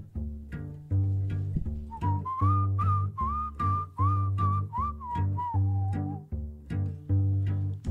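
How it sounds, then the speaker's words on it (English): A clear whistled melody in a song rises and falls over a steady plucked string rhythm, bright and prominent in the mix. "If you can effectively throw down a super cool whistle into any part of a song, really, it what a mood lifter."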